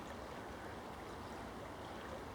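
Rapidly flowing river water rushing past a weed bed on a barbel fishing stretch, a steady broadband wash that stays even and fairly faint throughout.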